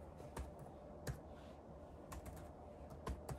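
Typing on an ASUS 410MA laptop keyboard: a few quiet, sparse key clicks and taps close by, with soft background hiss between them.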